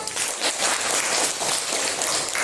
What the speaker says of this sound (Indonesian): Diberi tepuk tangan.